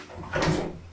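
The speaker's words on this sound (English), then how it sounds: "Let me just open the door." A single short door or latch sound, a muffled thump and creak close by, in a quiet room.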